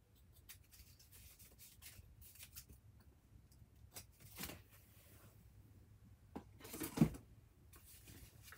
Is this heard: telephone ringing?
no